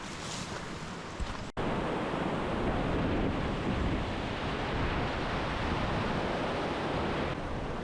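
Waterfalls rushing after a storm at Theatre Flats: a steady, dense, loud roar of falling water that fills the whole stretch, broken only by a brief dropout early on, with no voices.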